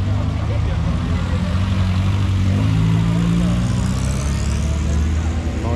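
A white Nissan Skyline with underglow pulls away from a car and bike night at the Bluebell Inn, its engine a loud, steady low drone that swells slightly mid-way, with voices faintly under it.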